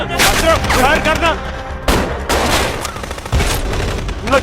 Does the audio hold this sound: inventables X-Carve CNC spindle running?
no